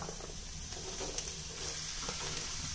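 Steady sizzling and crackling of chopped bottle gourd stir-frying in a pan, with faint stirring scrapes throughout, close and fairly loud.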